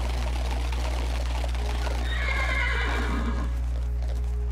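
Horse in the Minecraft Mo Creatures mod whinnies loudly in a rising, shaky neigh near the middle, with scattered hoof clip-clops around it over a steady low hum.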